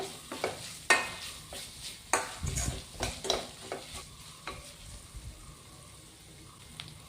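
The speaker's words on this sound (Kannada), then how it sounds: "ಕರಿಬೇವನ್ನ ಹಾಕಿ ಅದು ಕೂಡ ಸ್ವಲ್ಪ ಹೊತ್ತು ಹುರ್ಕೋಬೇಕು" Curry leaves fry with ginger garlic paste for a boiled egg fry, a soft sizzle broken by several sharp spoon scrapes and knocks against the pan early on, then settling into a quieter hiss, close by.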